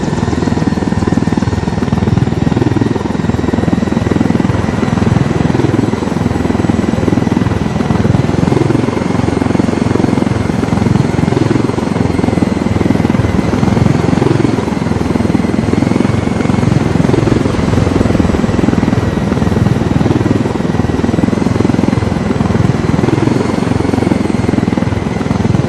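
Helicopter in the video game Ghost Recon Wildlands flying steadily, a loud continuous rotor thump and engine whine holding without a break throughout, close and dominant.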